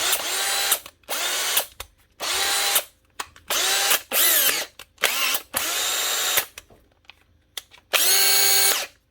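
A power drill whirs in repeated bursts, revving up and stopping about eight times, loud and close with short silences between.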